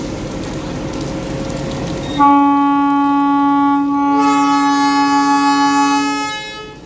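The Mahananda Mail sounds its horn as it departs Joyrampur station in the rain. After a few seconds of rain noise, a loud, sustained multi-tone blast starts suddenly, shifts pitch partway through and then fades out.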